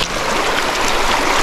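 Clean river water flowing steadily near Capula, Chiquilistlán, a continuous close, loud rush and trickle with no voices.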